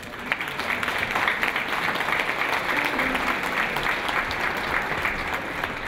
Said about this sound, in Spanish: Y un aplauso nuevamente para todos los aquí presentes.